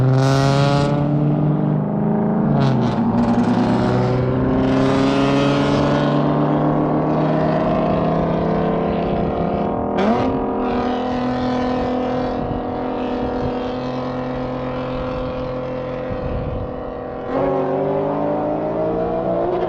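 A 2020 Dodge Charger Scat Pack and an Infiniti Q50 Red Sport race from a dig, engines roaring loudly with rising revs, brief gear-change dips and a sustained close, powerful drone throughout.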